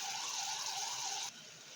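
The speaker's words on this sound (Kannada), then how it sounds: "ಇನ್ನೊಂದು ಸ್ವಲ್ಪ ನೀರು ಹಾಕ್ಕೊಂಡು ಹುಣಸೆ ಹುಳಿ ಹಾಕ್ಕೊಳ್ತಾ ಇದ್ದೀನಿ." More water and tamarind pour into a cooking pan for holige saru, a brief soft gushing stream that cuts off abruptly, alone and quiet.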